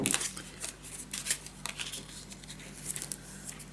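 Scissors snipping through tape for a scrapbook suitcase mini album, a series of close crisp cuts and rustles in irregular bursts over a low background hum.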